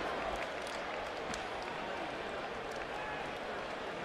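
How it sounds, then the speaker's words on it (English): Murmur and scattered noise from a boxing crowd reacting after Mayweather's one-sided win over Baldomir, heard faint and distant, with a commentator's voice running over it. "A mixed response from the crowd after a whitewash domination of Baldomir"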